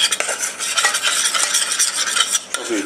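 A roux for lasagna being stirred in a pan over lowered heat, giving a continuous close scraping and swishing of the spoon with a faint sizzle underneath, no talking.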